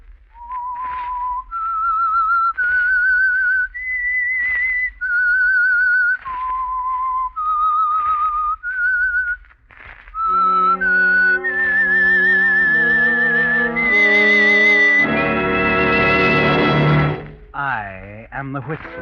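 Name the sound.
whistled signal theme of The Whistler radio program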